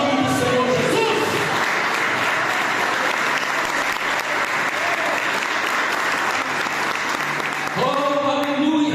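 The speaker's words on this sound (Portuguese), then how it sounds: "Quem crê nisso dá glória e aplaude o nome do Senhor Jesus." A church congregation claps in loud sustained applause during a worship service, a dense wash of hands lasting several seconds, with a preacher's voice heard briefly at the start and end.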